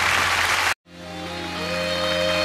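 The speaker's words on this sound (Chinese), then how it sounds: "多谢各位掌声" An audience claps loudly at a charity concert, and the applause cuts off abruptly into a quiet sustained tone that slowly swells.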